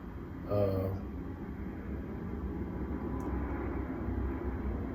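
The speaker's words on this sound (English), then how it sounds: "You hear the airplanes, they do that all day and all night" Airplanes pass overhead, a steady distant roar that fills the whole stretch beneath a brief nearby noise.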